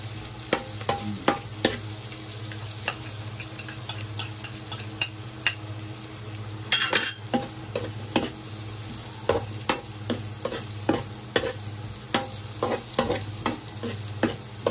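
Garlic frying in a pan, a continuous sizzle punctuated by repeated sharp scrapes and clicks of stirring at an uneven rhythm, close and fairly loud, with no voices.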